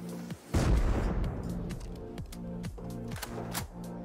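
Gunfire from the video game Rust: a dense burst of shots, then repeated rapid volleys cracking at a steady rhythm, loud and close against a constant low background.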